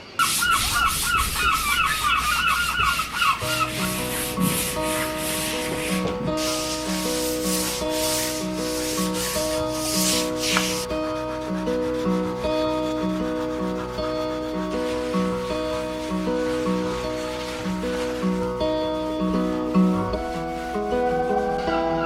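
A surface at a seaside cottage is scrubbed after one coat of cleaner, giving a continuous rhythmic rubbing and sanding-like scratch over steady background music.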